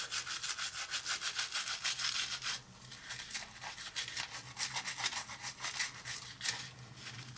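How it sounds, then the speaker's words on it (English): A Rolex watch gets scrubbed clean with a brush, a close, quiet, rhythmic brushing that repeats in quick strokes and works around the corners, with no talk over it. "I'm actually scrubbing it quite nicely"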